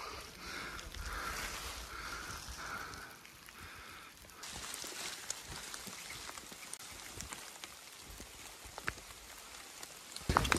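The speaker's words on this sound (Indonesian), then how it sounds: "Sekarang kondisinya lagi hujan," Rain falling on the Wates trail up Mount Prau in fog: steady faint patter and hiss of drops on wet ground and leaves, brightening into denser rainfall partway through, with scattered close drips and no talk.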